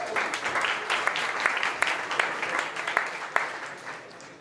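A conference audience at a startup competition applauds a speaker coming on stage: a crowd of hands clapping steadily with a few sharper claps standing out, fading slightly toward the end.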